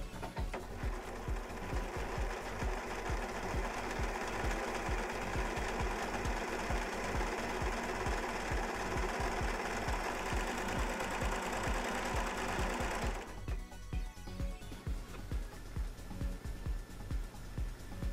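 A Brother 5234PRW serger running a test stitch, close and steady with a fast rhythmic mechanical chatter for about thirteen seconds before the motor stops and a few quieter clicks and handling sounds follow.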